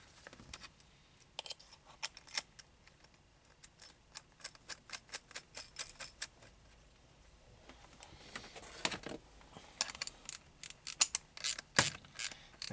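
Bolting a metal bracket back onto a portable 12-volt magnetic LED work light: quick ratcheting clicks and metallic tool clatter in irregular bursts, close and fairly loud, with no talking.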